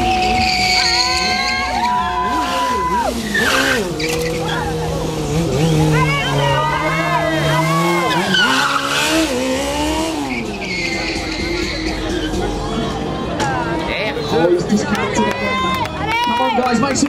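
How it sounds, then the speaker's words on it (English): A car drifting with skidding tires at a drift competition event, loud continuous tire squeal and engine roar rising and falling, with an announcer talking over it and crowd noise behind. "Nice big drift in there, almost dragging his cage on the ground."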